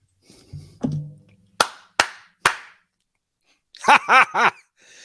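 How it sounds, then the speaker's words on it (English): Three sharp, evenly spaced hand claps ring out close and loud in a quiet room, with a brief voice before them and short voiced sounds after. "When I clap my hands 3 times,"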